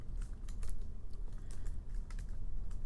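Fingers tap out a file name on a computer keyboard while an R script is saved in RStudio: a close, steady run of quick, irregular keystroke clicks with no talking.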